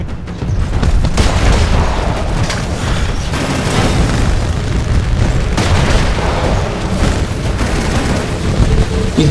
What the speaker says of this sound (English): He's shooting at Vale